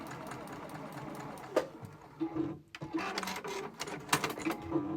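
A sewing machine stitching quarter square triangle pieces along a marked line runs at slow speed in steady bursts, close and moderately loud, with a brief pause in the middle.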